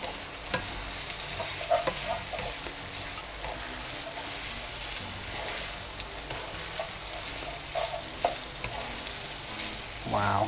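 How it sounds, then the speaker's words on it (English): Garlic is stirred into hot oil in a pan for Thai chicken rice, giving a continuous soft sizzle with occasional spoon scrapes and taps, close and without talking. "Give it a good stir. I want to get all the garlic mixed in with the oil."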